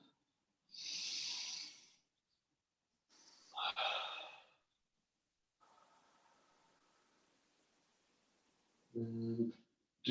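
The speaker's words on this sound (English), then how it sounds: "So in through the nose, out through the mouth." Deep breathing during a stretching session: slow, audible inhales through the nose and longer exhales through the mouth. Several close, airy breaths are separated by quiet pauses.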